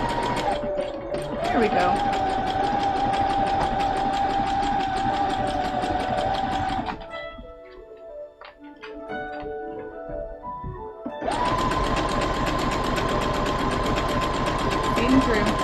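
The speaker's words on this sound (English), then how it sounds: "You're doing good, Sewing Machine." A sewing machine stitches cosplay fabric in steady, loud mechanical runs, pausing for a few seconds midway before starting again, while a voice speaks briefly.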